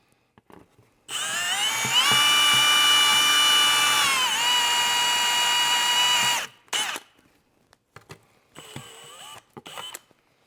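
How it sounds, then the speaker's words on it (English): A power drill with a step bit whines steadily for about five seconds as it bores a 20 mm hole through a motorcycle's rear plastic panel, its pitch dipping briefly, followed by a few short clunks. "we're going to take our rear plastic and we're going to drill to 20 mil"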